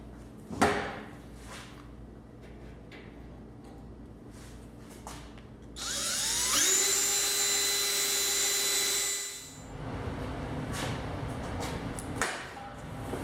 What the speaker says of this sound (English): drill a few holes here